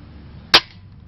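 A spring-powered KAC PDW Bison airsoft gun by D-Cobra fires one sharp, loud shot near the mic, a brief crack with a short tail over quiet room hiss.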